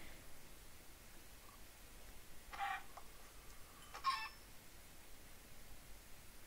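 A Minecraft chicken gives a couple of brief, faint clucks against a quiet background hiss, spaced about a second and a half apart.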